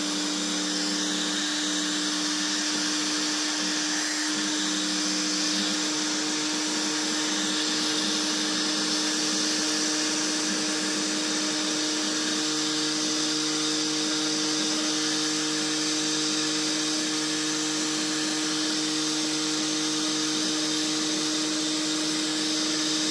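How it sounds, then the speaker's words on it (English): A heat gun blows steadily on a leather knife sheath, giving a loud, continuous airy whine with a constant tone that runs unbroken throughout. "and a heat gun."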